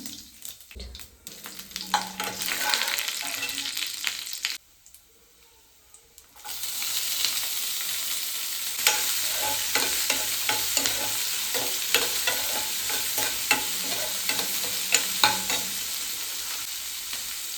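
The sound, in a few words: cumin seeds sizzling in hot oil for Andhra palak pappu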